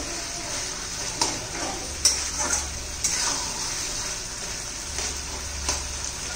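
Fresh coriander is stirred into eggplant bharit in a pan: a soft frying hiss runs throughout while a spatula scrapes and taps the pan at intervals, close up, with no voices.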